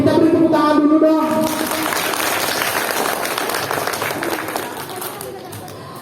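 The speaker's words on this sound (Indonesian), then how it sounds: "kita beri tepuk tangan dulu dong" Audience applause at a St. Peter parish women's fellowship gathering, a broad wash of clapping that starts right after a voice and then runs steadily, mixed with crowd noise and some talk.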